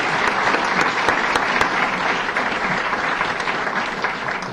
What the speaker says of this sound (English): Let's give all of our donors a round of applause as well.